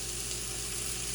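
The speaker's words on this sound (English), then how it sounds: "we're just gonna sear these really good on both sides" Pork country ribs searing in hot rendered fat in a pan, a dense, continuous sizzle heard close and alone for a brief moment.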